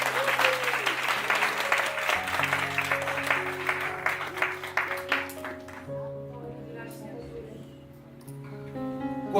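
Congregation in a church service applauding, a dense wash of clapping with sustained organ or keyboard chords underneath, fading after several seconds as the music carries on.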